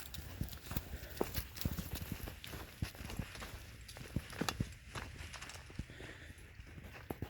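A goat walking outdoors at dusk, its hooves making a steady run of close, sharp clip-clop steps in an irregular rhythm over a soft background hiss.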